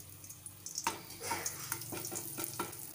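Hot sesame oil sizzles steadily, broken by a quick series of sharp pops and crackles from mustard seeds spattering in the pan.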